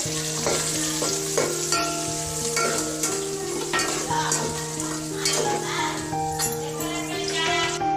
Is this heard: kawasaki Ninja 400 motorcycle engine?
no